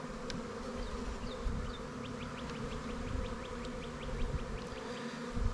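Honeybees in an opened hive with a laying queen, a steady close buzzing hum from the colony with occasional higher-pitched individual bee whines passing, no voices.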